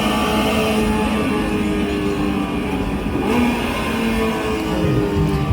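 A car engine drones steadily indoors at an international auto show, a loud continuous mid-pitched hum with a slight rise in revs partway through, no voices.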